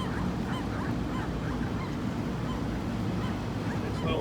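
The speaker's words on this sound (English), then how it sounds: "Oh, I'm getting attacked by these damn seagulls." Gulls give repeated harsh honking calls around a rooftop air-conditioning unit, layered over a steady loud broadband roar from the machinery and wind that continues throughout.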